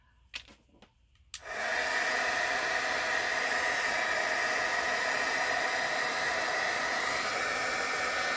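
Heat tool switching on after a couple of soft clicks, then a loud, steady blowing hiss that continues without a break while heating a faux-tintype photo to melt it.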